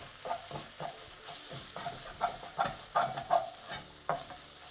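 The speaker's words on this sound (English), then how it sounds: "Just a quick stir." A spoon quickly stirs a sizzling onion base with garam masala for an okra and onion sabji, giving several short scraping strokes in a steady rhythm over a soft, continuous frying hiss.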